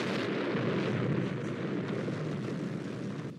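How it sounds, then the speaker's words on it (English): A big dynamite blast at an Antarctic camp in the 1982 film The Thing roars as a sustained, loud rumbling burst that slowly fades over a few seconds, with no talk. "Well, that was a big explosion."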